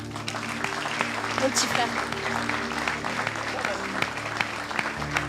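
A church congregation claps and cheers steadily at a prophetic service, a dense continuous applause with someone speaking French over it.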